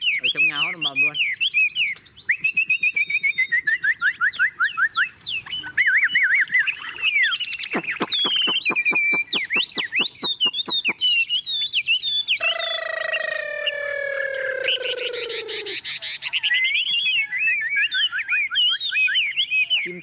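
A Chinese hwamei songbird sings indoors, loud and close, pouring out varied whistled phrases, rapid trills and repeated sharp notes in a long, continuous song.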